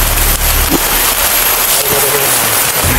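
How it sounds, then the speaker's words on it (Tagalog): Heavy rain on a mountain hits surfaces as a dense, loud hiss that stays steady and strong through the short stretch, with a few faint thuds beneath it. "palakas ng ulan"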